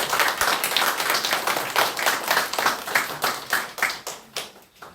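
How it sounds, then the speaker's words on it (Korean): A church congregation claps loudly and close, with a dense burst of hands that settles into rhythmic, evenly spaced claps that gradually fade. "큰 박수 부탁드리겠습니다."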